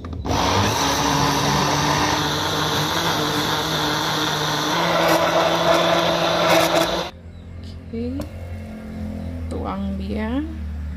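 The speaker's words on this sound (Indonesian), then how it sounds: "Lalu kita blender dia." A blender whirs steadily as it purées dragon fruit with sweetened condensed milk for sago ice cream, loud and continuous for about seven seconds before cutting off, after which a voice speaks briefly.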